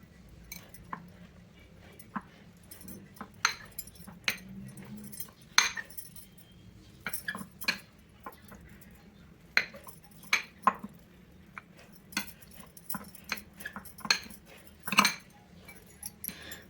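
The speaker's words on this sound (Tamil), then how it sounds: "இந்த உருளைக்கிழங்கை நம்ம மேஷ் பண்ணிடுவோம்." Boiled, peeled potatoes are mashed in a bowl, irregular clinks and scraping taps of a utensil against the dish repeating at an uneven rhythm, fairly close, with no talk.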